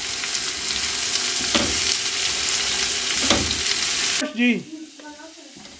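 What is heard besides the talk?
vegetables frying in a pan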